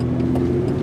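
A 1996 Toyota Tacoma LX pickup accelerating onto a main road, its engine droning in a steady, close, loud hum with low rumble throughout.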